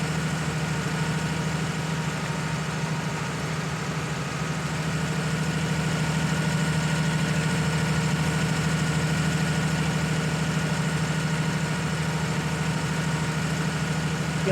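A tractor running a baler in Farming Simulator 19 gives a steady, unbroken engine drone at a constant idle-like pitch, with no talking.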